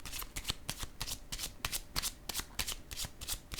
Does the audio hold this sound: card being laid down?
yes